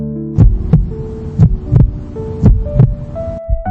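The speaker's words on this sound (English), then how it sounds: "The heartbeat came through, the sound of new life." A steady heartbeat, each beat a soft double thump, roughly one per second, over a low continuous hum.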